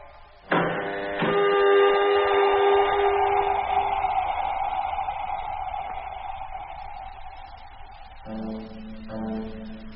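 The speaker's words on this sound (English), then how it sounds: "Airlock opening." A spaceship airlock opens as a radio drama effect: a sudden loud onset followed by a sustained droning, buzzing mechanical tone that holds steady for several seconds, then shifts pitch with a softer whirring tail near the end.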